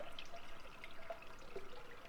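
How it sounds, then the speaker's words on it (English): Ice cold water is poured into dissolved strawberry Jell-O for a mousse cake. A faint, steady trickle runs throughout, quiet and close, with no talking. "to this, I'm going to add 1 cup of ice cold water"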